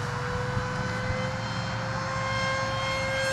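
The electric motor of a SkyFighter v2 RC airplane on a 4-cell setup screams with a loud, steady, high-pitched whine and an even propeller roar that holds throughout, with no voices.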